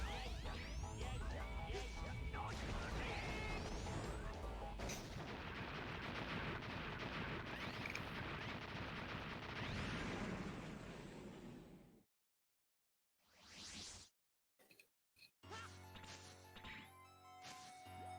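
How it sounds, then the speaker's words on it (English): Buster charge shots fire amid a loud, dense barrage of blasts and impacts during a boss fight in the video game Mega Man X6. The noise drops out into silence, then a few short bursts follow. "You just hit him with charge shots."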